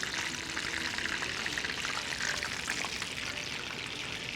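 Steady frying sizzle of food cooking in oil in a pan, a continuous close bright crackle with no talk, while chicken pieces brown on all sides.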